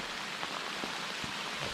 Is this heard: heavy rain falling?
yes